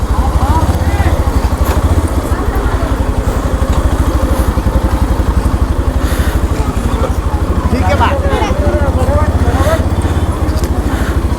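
A motorcycle engine runs close by with a steady, rapid throbbing pulse near the beach and temple at Murudeshwar, Karnataka, while voices talk over it.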